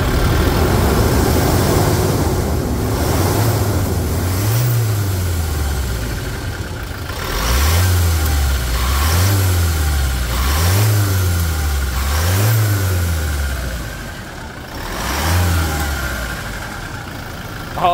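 Toyota Hilux 2.8 diesel engine from 2021 revving repeatedly, a series of about seven rising and falling throttle blips in steady rhythm, close and loud, with no talking.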